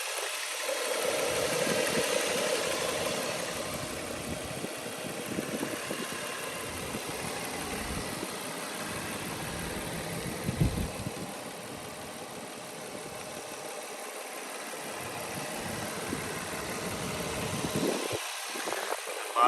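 A 2003 Nissan Murano SL AWD with 146,000 miles idles quietly and steadily as a soft, even engine hum, heard up close with no talk.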